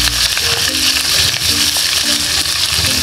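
Garlic frying in hot oil in a pan, a loud, dense, continuous sizzle up close with faint low clatter underneath and no talking.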